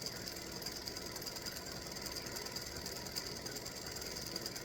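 An embroidery machine stitches a freestanding-lace Halloween gnome mummy design with a steady, fast mechanical chatter, close and unbroken throughout, with no voices.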